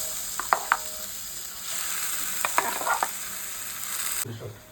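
Mashed vegetables for pav bhaji sizzle and fry in a pan while being stirred, with a steady hiss and a few sharp scraping clicks of the spoon, close and alone.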